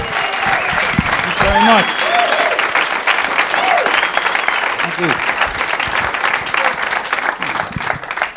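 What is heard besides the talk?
audience applause at a comedy show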